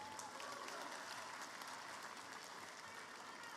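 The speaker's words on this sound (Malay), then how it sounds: "Kita berikan tepukan kepada Datuk Seri Bong." An audience at an UMNO assembly applauds Datuk Seri Bong, a faint, even wash of clapping that carries on steadily from a distance.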